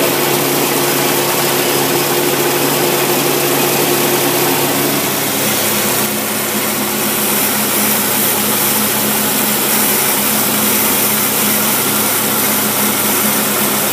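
A car engine fitted with a Carter AFB carburetor runs steadily and loudly throughout, a constant close-up idle roar with no pauses.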